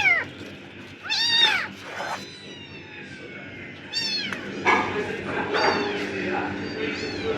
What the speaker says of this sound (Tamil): இந்த பூனை வந்து கத்தி கேட்டுக்கிட்டே இருக்கு